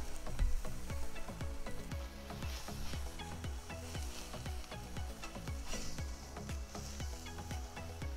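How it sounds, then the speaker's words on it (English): Steady, crackling sizzle of burgers searing on a hot grill, continuous and fairly close, with faint clinks and scrapes mixed in. "hear that sizzle."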